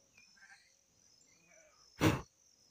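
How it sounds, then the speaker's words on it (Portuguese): A young goat runs down a hillside near forested country roads in Vazes, Cambuci, Rio de Janeiro, giving faint, distant bleats, then a single sharp, close noise burst, with no talk. "O cabrito descendo, correndo no morro ali, ó. Pena que não dá pra ver mais, que ele virou aqui atrás, tava berrando."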